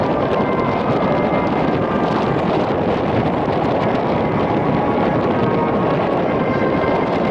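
An F-86 Sabre jet with a General Electric J47 turbojet makes its takeoff roll at a 2017 airshow demonstration, giving a loud, unbroken broadband roar that holds steady throughout.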